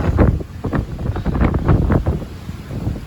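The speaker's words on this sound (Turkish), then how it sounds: "Rüzgar çok şiddetli." Strong gusting wind from a beach storm buffets the microphone in heavy, rumbling bursts, loud and continuous with no voices.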